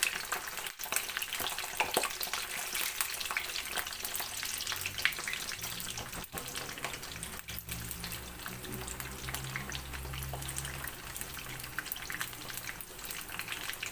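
Continuous crackling sizzle of meatballs frying in a pan, with bubbling and occasional spatter, heard up close and without voices.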